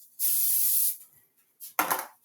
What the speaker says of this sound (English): I'm gonna spray them too